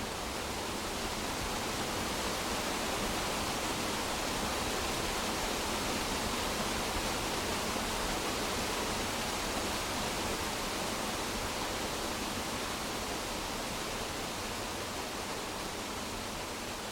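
A steady, dense rush of a waterfall on the Kerry Way in Ireland roars evenly throughout, close and loud with no breaks or voices.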